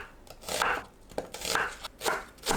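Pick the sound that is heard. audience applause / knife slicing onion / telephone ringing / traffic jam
knife slicing onion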